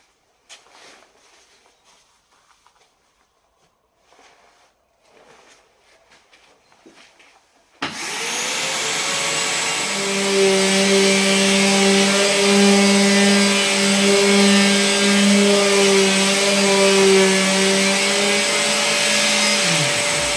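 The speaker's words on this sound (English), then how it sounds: "the sander's going to get a bit noisy" A power sander works over the wooden wings of a handmade Spitfire model, quiet handling noises first, then the motor kicks in with a loud, steady whine that drones on unbroken for over twelve seconds before easing down.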